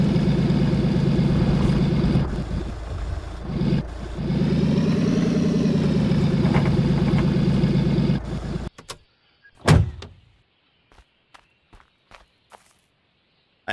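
A junkyard truck engine idles with its exhaust manifold removed, a loud, steady rumble that cuts off abruptly about two-thirds through, leaving a few sharp clanks and knocks in the quiet that follows.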